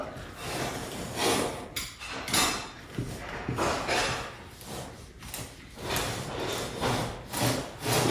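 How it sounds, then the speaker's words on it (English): A utility knife scoring the paint line down an inside wall corner during a master suite remodel, a close, steady series of rough scraping and rubbing strokes repeated in irregular bursts with brief pauses between passes. "we got to make sure we score the paint line down this corner to keep from peeling that up"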